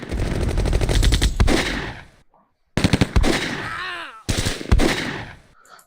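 Gunfire in the PC war game Close Combat, loud rapid machine-gun bursts in three stretches separated by short silences, with faint sliding tones under the middle burst.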